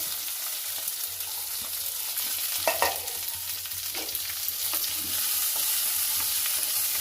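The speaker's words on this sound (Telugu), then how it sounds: "ఉల్లిగడ్డలు వేస్తున్నానండి." Onions fry in oil in a pan for a brinjal onion-masala dish, giving a steady sizzle with a few scraping stirs of a spoon partway through, close and continuous, no voices.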